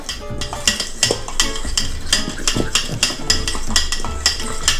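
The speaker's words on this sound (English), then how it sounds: "mix together my dry ingredients, my flour, and the baking powder, and a big old pinch of salt" A utensil stirs dry ingredients, flour, baking powder and salt, in a bowl for dumplings, with rhythmic scraping and clinking strokes, close and fairly loud, with no talk.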